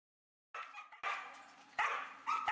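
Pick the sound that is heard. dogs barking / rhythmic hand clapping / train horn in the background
dogs barking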